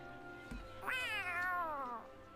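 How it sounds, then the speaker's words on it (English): A cat in the video game Tales of Arise lets out one drawn-out, rising then falling meow, clear and fairly close, over a steady low background hum, with no talking. "Meow at me, will you?"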